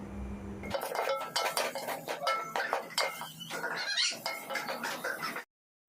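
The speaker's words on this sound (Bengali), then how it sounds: "ভালোভাবে একসঙ্গে সব মশলা মেশাতে থাকবো সোয়াবিনের সঙ্গে" A utensil scrapes and clatters steadily against a pan while soybean chunks are stirred with spices, giving dense, rapid metallic clinks and scrapes close up that run for several seconds before stopping abruptly.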